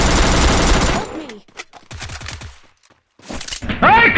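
A pistol firing in a battle royale video game: a quick run of sharp shots in the middle, with excited shouting voices before and after.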